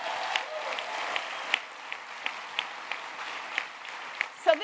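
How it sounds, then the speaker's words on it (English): A room full of people at a public hearing claps steadily, a moderate, even patter of applause with a few sharper claps standing out near the end. "A round of applause."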